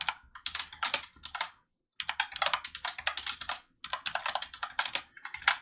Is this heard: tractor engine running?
no